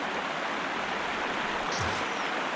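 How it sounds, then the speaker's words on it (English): Loud flowing water in the Sherlock Holmes: Crimes and Punishments game, a steady broadband rushing like a stream or small waterfall, constant and close throughout. "The water feels so loud."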